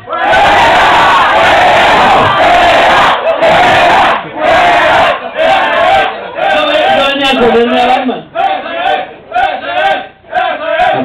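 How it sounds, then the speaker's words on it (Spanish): A crowd at a Halloween costume event in Duitama, Boyacá, cheers and shouts loudly for a Batman costume in rising, overlapping waves of voices, with children among them, all close and energetic. "Aplausos por Batman."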